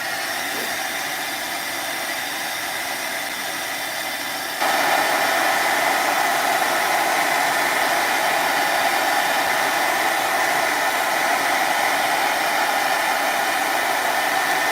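An old Revlon hair dryer blowing steadily, a close, loud airy whoosh that steps up to a higher setting partway through and holds there without speech.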